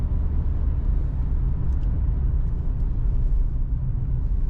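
A 1985 Cadillac Eldorado driving along, heard from inside as a steady low engine and road rumble with constant tire noise, no talking.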